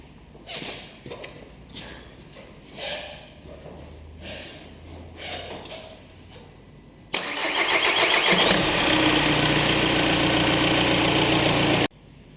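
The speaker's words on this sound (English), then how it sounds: "So long crank time confirmed." A VW Golf 2.0 TDI EA288 diesel engine with a long-crank fault cranks with a repetitive starter whir for several seconds, then catches and settles into a loud, steady running roar that cuts off abruptly.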